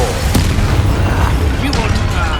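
An Incendio fire spell cast during combat in Hogwarts Legacy, a dense, loud boom-like rush of fire and battle noise with a sharp pop near the start and a voice shouting over it.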